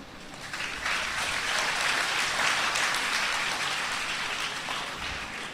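An audience claps steadily during a Sunday feast lecture, a dense, even wash of applause swelling after a second and holding at moderate volume without voices.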